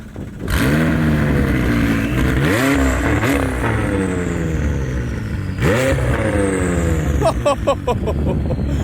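An Audi R8 engine revs hard several times, pitch climbing and falling with each blip, close and loud, ending in crackling pops.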